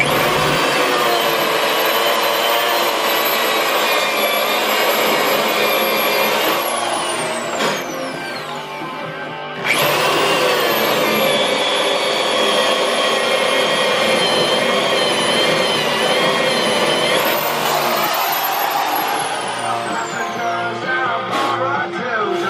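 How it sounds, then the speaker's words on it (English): A power drill bores holes through a boat hull, its high whine running loud and steady for several seconds, halting briefly, then spinning up again in long continuous passes with no talk. "Drilling more holes? Always."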